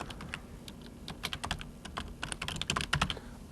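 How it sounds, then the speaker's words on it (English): Fingers typing on a computer keyboard while entering a reply in a 1990s internet forum post, a steady run of quick clicky keystrokes that grow denser and louder toward the end, close and alone. "And I'll type in my response here"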